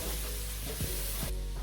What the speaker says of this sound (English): So we're going to stir fry it a bit